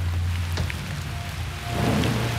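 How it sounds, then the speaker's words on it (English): Rain falling on a remote island, a steady hiss of drops on surfaces with a faint low rumble underneath, no talking. "Rain again."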